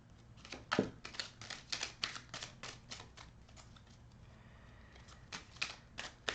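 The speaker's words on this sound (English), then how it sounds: "let's shuffle the cards really well" Rapid bursts of playing cards being shuffled, crisp riffling flutters repeating in quick succession, fairly close and without talk.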